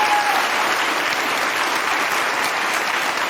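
Studio audience applause on a daytime television talk show, a steady dense wash of clapping from many hands that holds at even strength from start to finish, with no voices on top.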